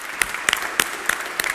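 Audience applause at a live banking hackathon event, steady clapping from a crowd with sharp individual claps standing out at regular intervals, moderately close and with no talk over it.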